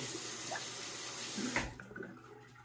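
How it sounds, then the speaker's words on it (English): Water runs and drains from a bathroom sink during a wet shave, a steady broadband rush that gurgles and tapers off near the end, close and alone without talk. "Let me go ahead and drain that water there"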